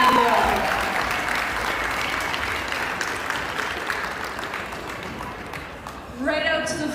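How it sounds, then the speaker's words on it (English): A gym crowd at a high school basketball senior night applauds players' parents, with sustained clapping that gradually thins before a voice cuts in near the end. "Give them a round of applause"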